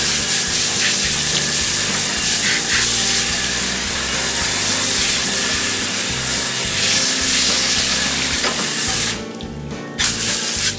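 A strong water spray rinses mill scale and rust off metal parts over a tank, a loud steady hiss that runs almost unbroken and briefly thins out near the end.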